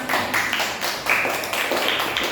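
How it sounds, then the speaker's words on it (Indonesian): A classroom of students applauding after a group reads out its poster, steady dense clapping with voices and cheers mixed in throughout. "Oke, tepuk tangan."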